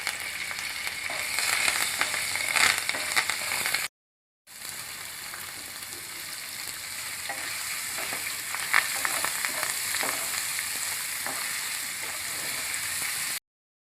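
Green chillies and curry leaves frying in a pan, a dense, close sizzle that continues steadily, broken by one brief gap.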